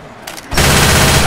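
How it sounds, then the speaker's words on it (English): Machine gun fire from the zombie shooter Left 4 Dead 2 in an underground level, starting abruptly after a brief lull and continuing as a loud, dense, sustained burst. "His machine gun."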